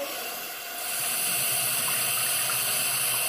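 Hot water runs steadily from a tap, a close, continuous hiss and splash that swells slightly after the first second and keeps flowing on its own.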